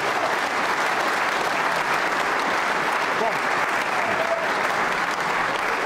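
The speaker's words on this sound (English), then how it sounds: "A very generous round of applause." Crowd at the Crucible Theatre applauds during a 2010 World Championship snooker match, a steady, even roar of many hands held for the whole stretch, with a faint voice under it.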